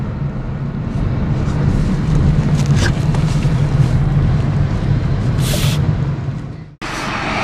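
A Honda Civic 1.8L with a CVT accelerates at about half throttle, giving a steady, even engine drone with no shift steps. The sound stays loud and constant, then briefly cuts out near the end.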